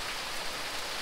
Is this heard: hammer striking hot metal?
no